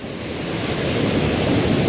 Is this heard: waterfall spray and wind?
yes